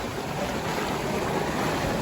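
Waterfalls and rushing river water in Zion Narrows, Zion National Park, roar as a steady, loud broadband wash with no break, close by and alone.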